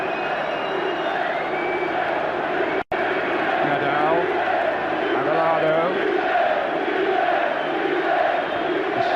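Football stadium crowd at a 1994-95 UEFA Champions League group match between Manchester United and FC Barcelona, a dense continuous roar of cheering with someone commentator speaking over it.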